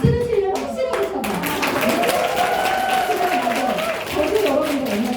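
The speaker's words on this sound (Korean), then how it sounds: "박수를 치려면 확실하게 쳐봐" Audience applause in a lecture hall, a dense patter of clapping hands that fills the clip at close range, with voices murmuring underneath.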